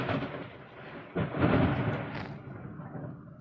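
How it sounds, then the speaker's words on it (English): Thunder rumbles during a sudden rainstorm outdoors, heard from indoors as a broad, rolling low roar that swells around the middle and then slowly fades, with rain hissing underneath. "I do apologize if you hear thunder in the background."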